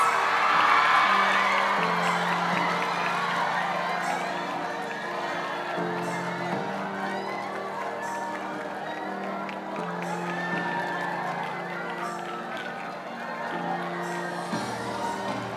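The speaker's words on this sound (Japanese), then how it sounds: "皆さんどうぞ大きな拍手声援お願いいたします" Fans at a Japanese event for Park Seo-joon and Won Ji-an's Korean drama cheer, whoop and clap in a continuous, lively roar, with high excited shouts over steady music playing underneath.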